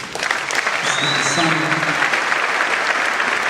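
An audience applauds at a political gathering after a speech, with a loud, sustained wash of clapping and a voice calling out briefly over it.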